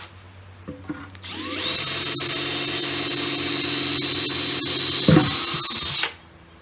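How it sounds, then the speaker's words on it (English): A power drill with a 9/16 bit spins up and whines steadily for several seconds, boring drainage holes into the bottom of a plastic 5-gallon bucket, then winds down and stops. No voices. "take a 9/16 drill like I've got here, and start drilling your holes in the bottom"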